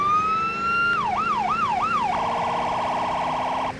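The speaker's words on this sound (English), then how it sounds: "now they also revamped the sirens on the WSP cars" A Washington State Patrol car siren in the video game Greenville starts with a rising wail, shifts to a quick yelp, then switches to a rapid warbling hi-lo pattern, loud and close.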